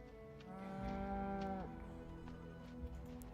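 A cow moos in a video game, one long, drawn-out low moo that rises and then drops away after a second or so, heard over a faint steady background hum.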